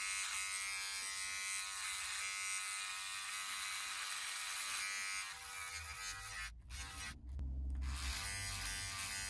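An electric beard trimmer buzzes continuously and close up while trimming a beard, its steady hum briefly cutting out and shifting near the end as the trimmer moves against the hair.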